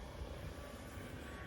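A Dynam Hurricane RC model warbird makes a low pass, heard as a faint, steady engine drone that holds evenly throughout without rising or fading.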